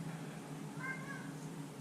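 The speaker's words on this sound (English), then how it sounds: "God damn it, Cat!" A domestic cat gives one faint, short meow in a quiet indoor room with a low background hum.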